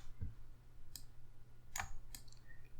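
A few sharp computer mouse clicks, spaced apart over a low steady hum, close and fairly quiet, while editing bird photos such as turnstones and pelicans.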